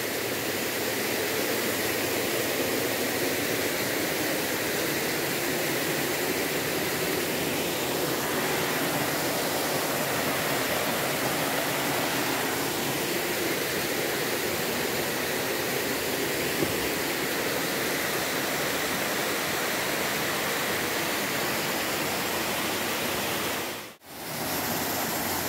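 A forest stream in Lazarevskoye in winter rushes with a steady, broad hiss of flowing water, continuous and fairly close, briefly cut near the end.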